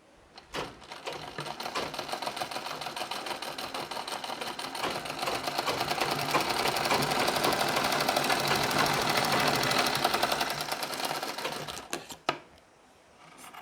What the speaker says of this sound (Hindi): अब एक टाँका हमें और लगा लेना है, बारीक वाला टाँका